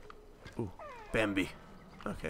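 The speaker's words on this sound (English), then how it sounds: "sorry if you hear meows in the background, because my cat is meowing at me." A pet cat meows in the background of a Far Cry Primal gaming session, one drawn-out wavering cry mixed with brief clicky game noises as a person talks over it.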